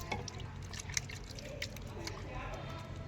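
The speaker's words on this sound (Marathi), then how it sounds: "त्यानंतर पाणी आणि पाणीने स्वच्छ धुवून घ्यायचे" Running water rinses soapy hands clean during a handwashing demonstration, making a soft, steady trickle and splash with a few small drips, faint and close.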